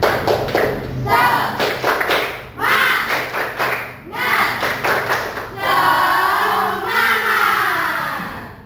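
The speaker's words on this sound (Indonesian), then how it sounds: "kita tepuk semangat dulu. Tepuk semangat" A class of schoolchildren in a Hindu religious education lesson performs a patterned group clap, with bursts of claps in rhythmic sets separated by short pauses and young voices chanting along between them.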